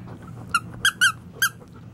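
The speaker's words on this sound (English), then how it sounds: "he picked up a squeaky toy. It's not his, it's the dog that's staying here." A visiting dog's squeaky toy squeaks four times in quick, bright bursts, close by against a quiet room hum with no talking.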